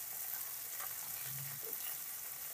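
Mixed vegetables with ivy gourd and eggplant stir-fry in a pan, giving a soft continuous hiss and sizzle with faint stirring scrapes, quiet and close.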